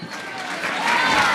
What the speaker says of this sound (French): Un tonnerre d'applaudissements encore pour les Mame Diarra.